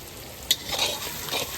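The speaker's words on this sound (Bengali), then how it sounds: "পেঁয়াজটা তাড়াতাড়ি ভাজাই দেবো" Onions fry in hot oil for mutton curry while a spoon scrapes and stirs them, a crisp metallic clink at the start followed by continuous close sizzling.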